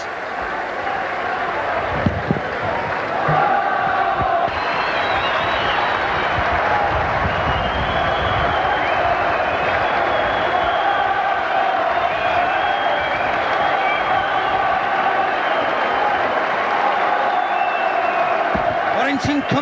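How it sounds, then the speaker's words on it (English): Warrington rugby league fans cheering and clapping at a 1990 home match against Leeds, a broad, sustained crowd roar with scattered claps and shouts, voices mingled through the noise. "The fans going wild."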